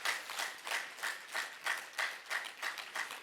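An audience claps in a steady rhythm at a talk on natural medicine, about three claps per second, soft and somewhat distant, with no voices over it.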